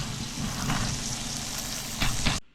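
Beef liver frying in a pan, a loud dense sizzle and spatter throughout that swells briefly near the end before cutting off abruptly.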